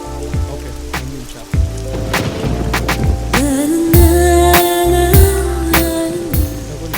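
Heavy rain pouring steadily, a dense continuous hiss with faint rumbles, while music plays loudly over it with sharp accents and a sustained melodic line.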